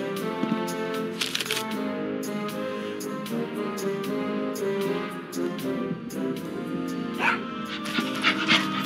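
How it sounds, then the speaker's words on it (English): A small dog in the adventure game Tales of Monkey Island whimpers and yips in short repeated bursts over a busy musical score, with clicks and rustles scattered throughout. "Oh, such a cute little dog."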